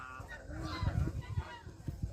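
Domestic ducks floating on a lake call back and forth, a run of nasal honking quacks rising and falling close by, several birds overlapping at a steady, chattering pace.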